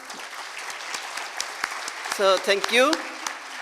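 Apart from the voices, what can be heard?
applause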